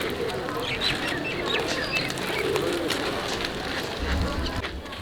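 Pigeons coo and flutter close by while grain is scattered for them in Udaipur, amid a busy outdoor murmur with faint background voices.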